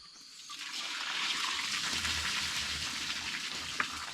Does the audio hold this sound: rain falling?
yes